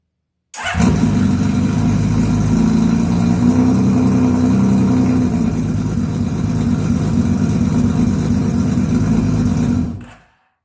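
A 1982 Honda CBX 1000 motorcycle, its engine freshly tuned after carburetor work and running on partial choke, starts and holds a loud, steady close-range idle for about ten seconds before cutting off abruptly, with no talking.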